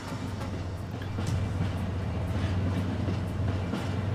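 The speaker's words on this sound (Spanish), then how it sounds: "Sistema de monorraíl activado." A monorail train moving in the Alien vs Predator video game, a steady low rumbling roll with faint rhythmic ticks above it, continuous and fairly close for a few seconds, with no talk.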